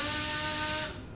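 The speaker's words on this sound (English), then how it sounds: "Is that a drill?" An electric drill in the video game Death Mark whines with a steady, high mechanical buzz for about a second before cutting off abruptly, leaving a quieter low rumble.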